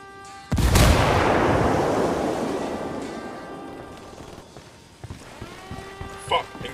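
A frag grenade goes off in Tom Clancy's Ghost Recon Wildlands: a single loud, close blast with a long rumbling decay, followed by fainter game sounds and small clicks.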